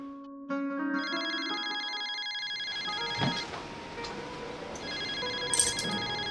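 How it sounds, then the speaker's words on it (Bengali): A telephone rings with an incoming call, its electronic ringtone a steady repeating tonal pattern heard loud and clear at close range, with a faint voice and soft background sounds joining partway through. "উফ, কোটা মামা ফোন দিয়েছে, দেখো তো"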